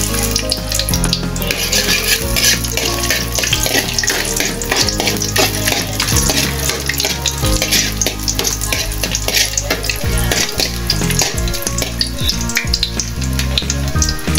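Sliced ginger fries in a pan of oil left from frying tilapia, a loud continuous sizzle with stirring scrapes under steady background music.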